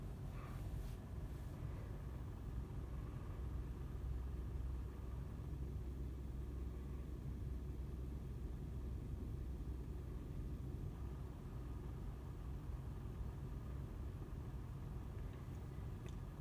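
A Brother sewing machine stitches with a twin needle at high thread tension, its motor giving a steady, continuous whirring rumble throughout with no talking.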